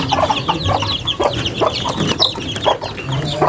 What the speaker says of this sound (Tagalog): Laki na guys yung ating sisiw.